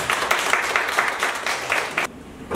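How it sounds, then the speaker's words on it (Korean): A church congregation claps in celebration after a service announcement, a short burst of steady, moderately loud applause from a roomful of people that stops abruptly near the end. "식사 후에 형주 축하를 박수 한번 칩니다."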